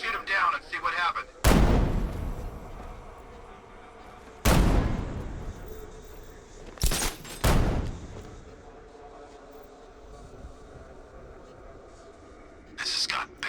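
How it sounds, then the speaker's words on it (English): Sharp gunshots ring out in the video game Batman: Arkham Knight, a few single loud cracks spaced apart and then a quick pair, with quiet ambience and faint voices between them. "I'll shoot him down and see what happened."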